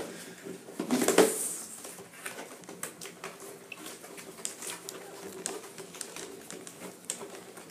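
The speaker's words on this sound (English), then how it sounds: "Let's take our safety scissors and saw forever to get that" Safety scissors sawing through the plastic safety packing on a Shopkins Fridge toy, making close, quiet, irregular clicks and rustles with a brief louder crinkle near the start.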